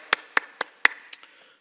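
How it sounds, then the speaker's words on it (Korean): A church congregation applauding after the Lord's Prayer and a call to give glory to God, heard as about seven distinct sharp hand claps in a slowing, thinning rhythm, fairly close and quiet. "우리 하나님께 큰 영광의 박수 올려드립니다"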